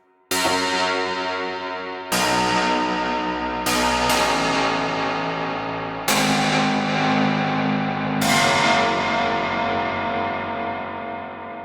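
A synth plays sustained chords through a church reverb setting, each struck sharply and trailing into a long, spacious reverb tail, with five or six loud attacks spread across the passage.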